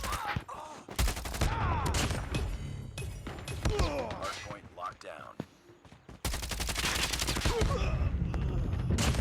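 Rapid bursts of automatic gunfire and sharp single shots in a Call of Duty match, loud and dense throughout, with a brief lull mid-way before heavy firing resumes, a voice talking over parts of it.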